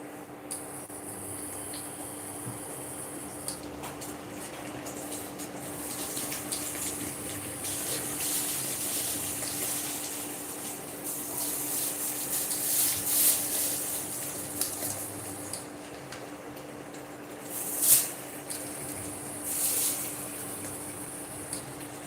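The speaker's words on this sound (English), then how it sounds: "So we're gonna leave it to boil for a while." Waakye, a dish of rice and peas, boils in a pot with a steady, continuous bubbling hiss and a few louder surges. No voices are heard.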